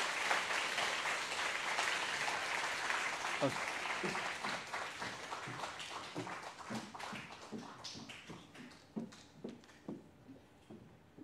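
Church congregation applauding during an evening worship service, steady clapping that thins toward the end into scattered, slower individual claps.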